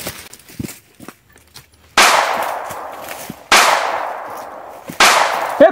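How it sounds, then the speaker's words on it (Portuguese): Gunshots, three sharp loud blasts spaced about a second and a half apart, each with a ringing decay, following quieter rustling and footsteps. "Escutei os tiros dali?"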